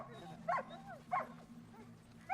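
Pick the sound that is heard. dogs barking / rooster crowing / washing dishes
dogs barking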